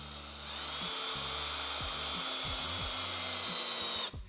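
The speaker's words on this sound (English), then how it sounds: "we can just essentially screw them in with this Phillips head" A power drill drives screws with a Phillips head bit while installing a carbon fiber Blaze Atom V2 cold air intake on an MK7 GLI, steady whirring broken by short bursts and stops.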